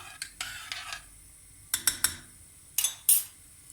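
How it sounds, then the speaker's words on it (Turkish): A utensil scrapes and clinks against a pot of lentils in short, separate strokes, quiet and close, with pauses between. "Şöyle bir karıştıracağım."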